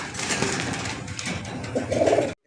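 A blue barless Strasser hen pigeon, offered among fancy pigeons for sale, gives soft, brief cooing and rustling close by, cutting off abruptly at the end.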